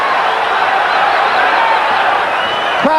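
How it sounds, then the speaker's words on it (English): A dense, steady roar from the boxing crowd at the Marvelous Marvin Hagler vs Roberto Duran middleweight title fight, loud and unbroken for the whole stretch. "Crowd is really into this fight."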